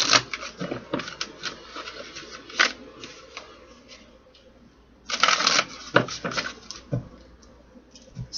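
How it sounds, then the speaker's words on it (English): Tarot cards being shuffled by hand in a quiet room, a string of crisp riffling and tapping bursts with short pauses and a louder flurry midway, close and dry. "One more shuffle."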